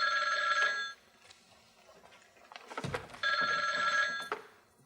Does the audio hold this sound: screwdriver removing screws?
no